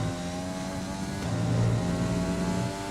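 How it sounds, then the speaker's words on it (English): A Formula 1 race car in F1 2020 at the Austrian Grand Prix with overtake mode engaged, its engine screaming steadily and loud through a quick gear change partway through. "Listen to those quick gear changes when I've got overtake mode on"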